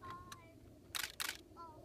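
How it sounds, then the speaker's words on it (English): A camera shutter fires in a quick continuous burst while photographing wildlife, two tight clusters of rapid sharp clicks, close and fairly loud against a quiet background with a couple of softer single clicks before them. "the difference between this is continuous high"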